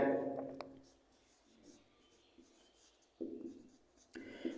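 Chalk or marker scratching out a formula on a classroom board during a lesson on radius of curvature, in short bursts separated by quieter pauses, with faint voice-like murmurs in the background.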